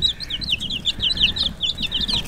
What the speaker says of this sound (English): it's time to put the littlest chickens back into their brooding box.